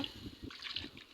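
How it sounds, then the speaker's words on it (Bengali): Water is poured into a kadai on the stove, a brief, quiet splashing trickle lasting about a second, heard alone. "পানি দিয়ে দিব"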